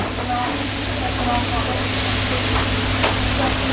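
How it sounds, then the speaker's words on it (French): Onions and diced red pepper sweating in a hot pan for a Basque piperade, giving a steady, loud sizzle and hiss that runs unbroken throughout. "on met les oignons à suer, l'autre partie qu'on avait préparée"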